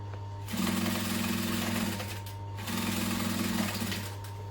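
A sewing machine top stitches a duffel bag lining in two bursts of fast, even needle hum and clatter, with a short pause between them and steady background hum throughout.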